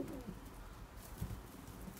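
Long-distance racing pigeons coo softly in a loft, a couple of low, throaty coos close by against faint background rustle, no talking.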